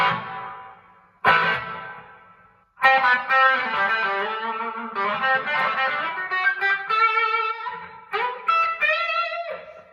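Electric guitar notes and chords through a Blackface or Silverface amp, drenched in springy 70s-style reverb, with plucked attacks ringing out and decaying into a wet, echoing tail.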